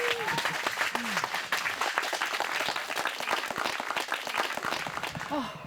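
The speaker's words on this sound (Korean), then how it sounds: "박수 한번 주세요." An audience at an outdoor forest theatre in Korea gives lively applause, many hands clapping steadily and close, with a few voices and exclamations over the top.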